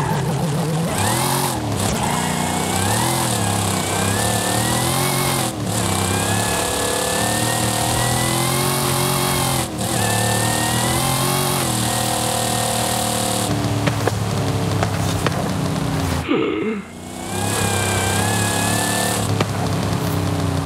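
A 7.5-litre 1970 Dodge Charger engine in Forza Horizon during a night race, loud and close, revving up and down through repeated gear climbs with a steady deep roar and a brief dip near the end.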